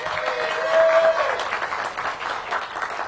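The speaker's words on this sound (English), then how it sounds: "That also deserves a round of applause." Crowd applause at a city economic development event with the mayor at a government headquarters, a brief burst of clapping with a faint whistle-like tone near the start, fading somewhat toward the end.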